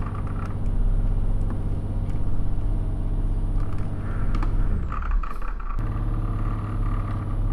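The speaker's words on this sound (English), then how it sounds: "I got my foot flat to the ground and this truck is not pulling it out." A Scania T730 truck engine in Euro Truck Simulator 2 straining while bogged down, a loud, close, steady low droning rumble that dips and sags for a moment before returning at full strain.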